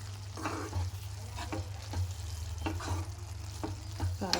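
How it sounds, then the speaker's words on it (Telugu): Chole masala curry with chili powder stirred in a pan, a spoon scraping and clinking in regular strokes over a low bubbling sizzle, no voices. "కర్రీలో అంతా కలిసేలాగా కలిపేసుకోవాలి"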